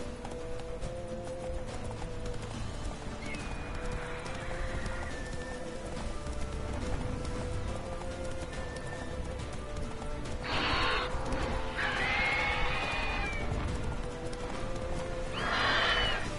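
Galloping horse with neighs in The Witcher 3 on PS4, steady hoofbeats running throughout under a continuous outdoor game ambience, with loud whinnies bursting in near the end.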